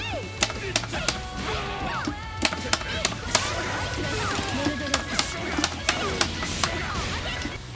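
Buttons on a Mad Catz arcade controller are pressed hard, giving sharp, close clacks in uneven bursts over about eight seconds above a busy layer of game sound.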